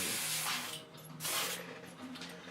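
An airbrush sprays paint to shade a Giganta figure, sending bursts of steady hissing air that rise and fall in close, fairly loud passes.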